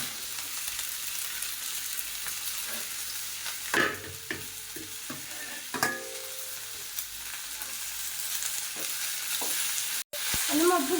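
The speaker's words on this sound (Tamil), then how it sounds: "தக்காளி எல்லாத்தையும் முட்டை நம்ம வதக்கிக்கலாம்" Tomatoes and egg sauté in a pan with a continuous bright sizzle, punctuated by a few louder scraping and stirring strokes, with no talking.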